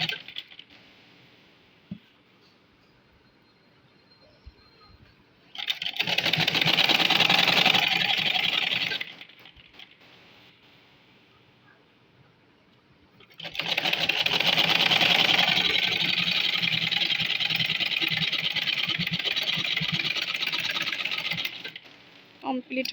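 A sewing machine top-stitches a kameez band collar in two separate bursts of fast, buzzing stitching, with quiet handling sounds between them.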